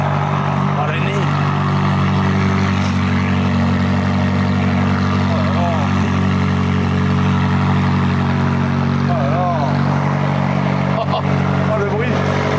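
A McLaren 570S sports car idles steadily at close range, a continuous low engine drone with a few faint, brief voices over it.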